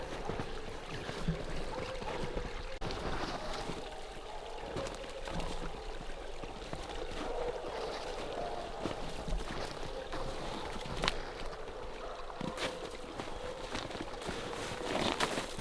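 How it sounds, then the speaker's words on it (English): A creek runs steadily along a steep outdoor trail, its rushing, splashing water forming a continuous near wash with occasional sharper splashes and no talk. "We got a creek we gotta try to cross here."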